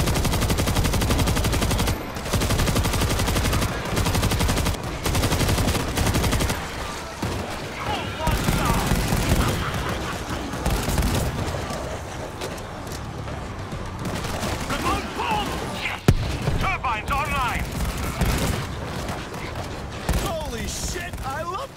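Heavy mounted gun in a World War Z zombie shooter, Jerusalem Dead Sea level, hammering out sustained dense automatic bursts amid chaotic game noise, with a voice talking over parts of it.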